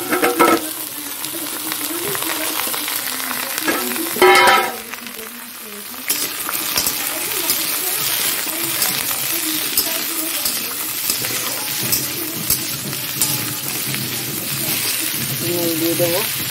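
Potatoes sizzling and frying steadily in a pan while being stirred, with metallic scraping and clinks from the utensil, loud and close throughout, with a voice speaking briefly.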